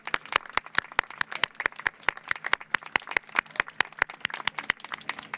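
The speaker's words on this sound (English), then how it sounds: "Let's give our family a round of applause." A graduation crowd gives families a round of applause, heard as a brisk, evenly paced series of sharp single claps, fairly faint and fading slightly near the end.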